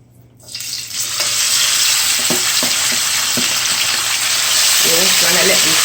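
Seasoning for ackee and saltfish sauteing in a pan, starting quietly, then a loud, steady sizzle with occasional stirring knocks, and a voice briefly talking near the end.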